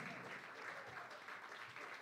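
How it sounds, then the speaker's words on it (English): Applause from a live magic show crowd as a volunteer returns to their seat, a steady patter of many hands heard quietly and at a distance. "They're going to give you a round of applause as you do."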